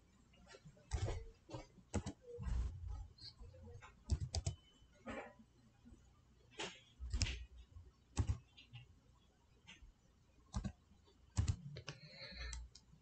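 Quiet typing of a password on a computer keyboard, with irregular bursts of soft key clicks and taps over a faint background hum and no talking.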